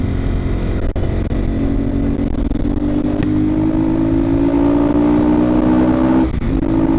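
A motorcycle engine drones steadily at close range, its pitch slowly rising as it gathers speed, with wind buffeting throughout.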